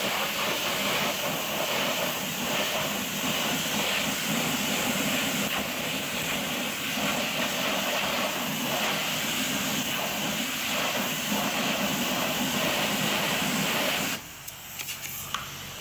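A pressure washer blasts a steady, loud, broadband hiss of water spray onto a car wheel coated in wheel cleaner, holding constant for about fourteen seconds before cutting off abruptly.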